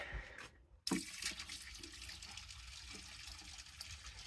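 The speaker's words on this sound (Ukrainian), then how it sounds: "тут десь літрів 5 влиємо десь пів поливачки" Water pours from a watering can, about five liters, onto cherry plum pits with little flesh left on them, a steady splashing gush that starts after a short pause and continues to the end.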